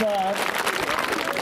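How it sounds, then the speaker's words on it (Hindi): A gathered audience breaks into brisk, continuous clapping at a school principal's voluntary retirement ceremony, entering just as a voice trails off and filling the rest of the short moment. "एक बार फिर से तालियां हो जाएं।"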